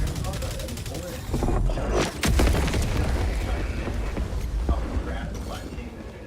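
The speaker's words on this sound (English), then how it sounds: "Firing orbital strike." Orbital strike in the video game Helldivers 2: heavy booming blasts and rumbling impacts roll through a noisy battlefield soundscape, with a person talking throughout.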